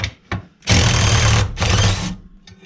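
A DeWalt bit driver whirs up close in two loud bursts, the first longer than the second, with brief clicks and taps before and after.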